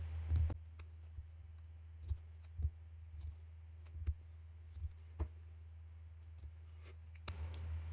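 Double-sided tape being snipped into short pieces with scissors at a desk, a series of sharp, sparse clicks and snips spread across several seconds over a steady low electrical hum, close and fairly quiet.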